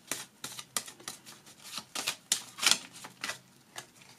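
Tarot cards shuffled and drawn, a steady run of crisp, papery riffling snaps, close and fairly loud with no talk.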